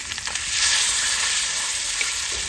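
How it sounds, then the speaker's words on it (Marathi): Fish frying in hot oil on a wood-fired stove, giving a dense, continuous close sizzle that stays loud and even throughout, with a faint scrape as it is flipped. "आपण मासा पण पलटी मारून घेऊ"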